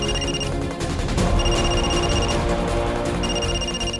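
A mobile phone ringtone repeats in bursts of high beeping tones over a busy, loud background, with brief gaps between the rings.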